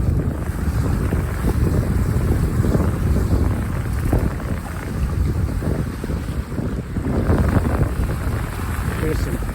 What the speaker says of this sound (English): there's some nice fresh breeze right now